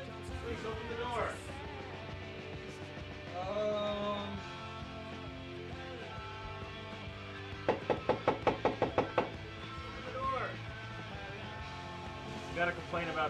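Knocking on a door comes as a rapid run of about eight sharp raps in the middle, under ongoing talk and background music.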